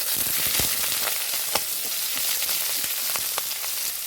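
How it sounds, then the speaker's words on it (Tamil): Pirandai pieces added to hot oil for a chutney, crackling and sizzling steadily at close range with sharp pops scattered across the continuous fry, no voices. "ஆயில் சூடானதுன்னு நம்ம எடுத்து வச்சுருந்த பிரண்டையை சேர்த்திக்கலாங்க"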